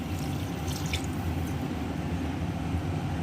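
Water poured into a cooking pot for prawn biryani, a steady soft liquid stream with faint drips, close and continuous, with no talking.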